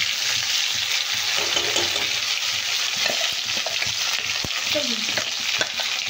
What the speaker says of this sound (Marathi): आता मसाला आपल्याला थोडासा भाजून घ्यायचा आहे, चांगला भाजून घ्यायचा आहे।